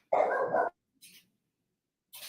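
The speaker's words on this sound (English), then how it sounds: "Sorry, my dog is barking." A dog barks in one loud sustained burst, followed by two fainter, shorter barks after pauses, with no talking over it.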